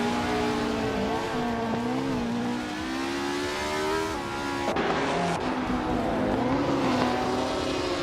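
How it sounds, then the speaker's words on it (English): A 1955 Ferrari 555 F1 race car in a racing video game, its engine revving loud and continuous with rising and falling pitch as it shifts gears, with other cars and tire noise mixed in. "Next Boring Life is driving a 1955 Ferrari 555 F1"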